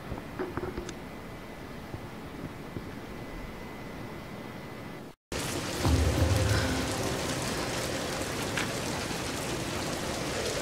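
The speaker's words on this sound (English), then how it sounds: "We're getting closer to the storm." Stormy weather in the Tomb Raider video game: steady heavy rain hissing loudly throughout, with low rumbles of thunder, a brief cut to silence midway, then the downpour returning even louder, with no talking.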